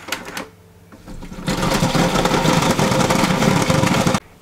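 Electric vegetable peeler machine peeling potatoes on a short timed cycle: a brief click and hum, then a loud, dense rattling whir as the potatoes tumble against the abrasive drum, stopping abruptly after about three seconds.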